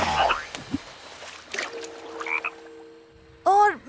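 A cartoon frog croaks in several short, bouncy bursts, with a loud, close croak at the end and scattered sound-effect noises in between; no one speaks.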